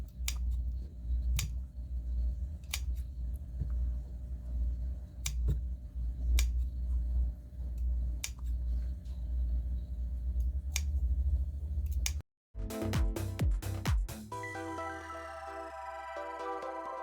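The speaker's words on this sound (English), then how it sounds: "So I'm just going to take my scissors and add some short snips." Scissors make a series of short, crisp snips into a denim jeans seam allowance, evenly spaced clicks near the mic over quiet background, followed after a brief dropout by a different tonal ringing sound.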